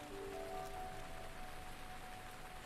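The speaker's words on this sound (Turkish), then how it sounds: "Yağmur yağıyor ama." Steady rainfall at night in Zelda: Breath of the Wild, a soft continuous hiss of drops on the ground with a few faint high tonal notes from the game drifting over it, no voices.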